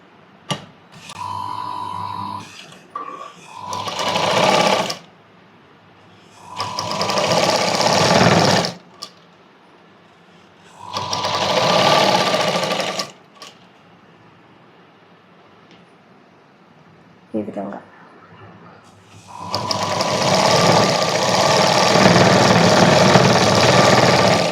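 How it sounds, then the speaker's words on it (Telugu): Sewing machine stitching the seam of a baby frock for a one- to two-year-old, running in several loud bursts separated by short pauses, then one long continuous run at the end. "ఇప్పుడు నేను స్టిచ్ చేసుకోవడం చూపిస్తా"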